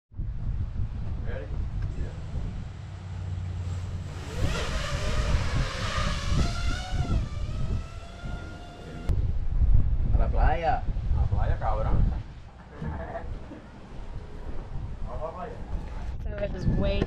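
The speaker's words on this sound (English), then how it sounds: "So it is way too windy for me to fly the little guy." Strong gusts rumble against the microphone, loud and uneven, while people talk underneath.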